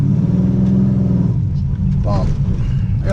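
An Olds 442 fitted with a Chevy 383 crate engine pulls away on a road, a loud, steady low rumble under a voice that rises a little as the car accelerates.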